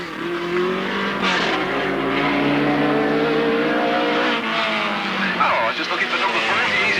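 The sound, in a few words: race cars driving round the track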